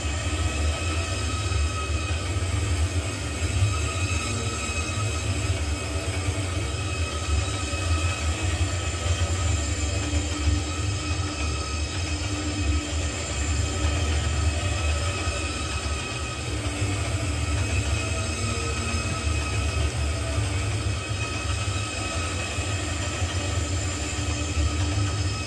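Shinkansen train in the Trainz simulation game running over deliberately rough track, producing a steady, continuous rumble with a constant mechanical hum and no distinct bumps or breaks.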